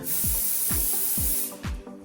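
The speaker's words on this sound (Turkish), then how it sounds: "O spreyi kafada bitirdi." Hairspray is sprayed onto hair in four short, hissing aerosol bursts with an even rhythm, close and fairly loud, with no talking.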